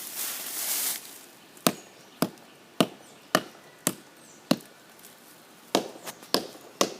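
After a brief burst of rustling noise, someone knocks on tree wood, sharp hollow raps spaced about half a second apart, a few closer together near the end.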